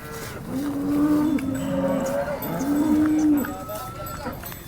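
Cows at a morning cattle market give two long, loud moos, one after the other, over a busy background murmur of the market crowd.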